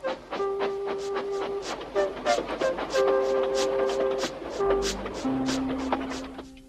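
Toy wooden railway steam engine chuffing along its track, rhythmic puffs with sustained whistle-like tones over a rumbling base, loud and near with no talk.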